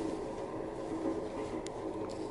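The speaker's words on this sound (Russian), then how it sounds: "А поезд по дороге стоит среди телеграфных столбов" A train runs steadily as a stage sound effect during a theatre performance, a low continuous rumble of moderate, even loudness with faint rattling clicks toward the end.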